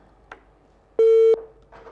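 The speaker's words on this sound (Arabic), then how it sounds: "للاسف انقطع الاتصال." A short, steady electronic telephone tone marks a cut-off call during a broadcast medical call-in, sounding once for about a third of a second amid faint background noise.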